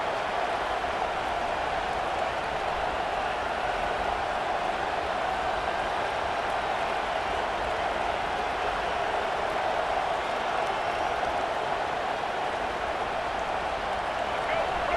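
A home crowd in an American football video game roars steadily and loudly on third down as the defense tries to get off the field, a dense, continuous wash of cheering noise throughout.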